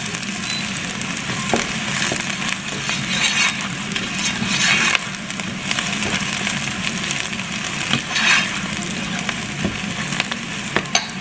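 Garlic and ginger frying in oil in a pan for a vegetarian capsicum curry, a loud close sizzle with steady crackle and occasional stirring scrapes throughout.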